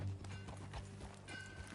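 Horse hooves clip-clop in a quick, steady rhythm as a rider gallops in Red Dead Redemption 2, a brief burst with game sounds layered underneath.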